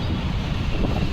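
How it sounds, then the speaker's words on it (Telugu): Wind buffets a microphone outdoors beside an office car park, a steady, dense low rumble filling the short moment with no other sounds. "మంచి గాలి వస్తుంది"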